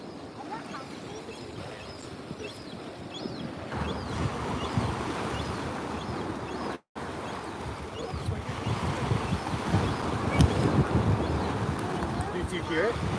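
Strong, active ocean surf breaking on a beach where sea lions have come ashore, a steady roar of waves and wind building louder through the clip, with a brief dropout midway.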